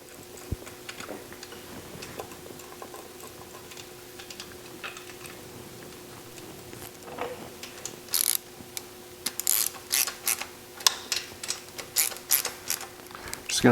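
A hand ratchet snugs down the camshaft retainer bolts on an air-cooled Porsche engine, giving quick bursts of close, crisp clicking that grow denser in the second half after a quiet stretch with faint handling noises.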